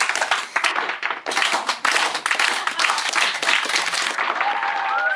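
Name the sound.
slow clap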